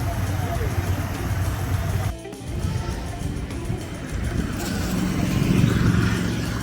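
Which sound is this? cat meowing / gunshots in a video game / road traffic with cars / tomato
road traffic with cars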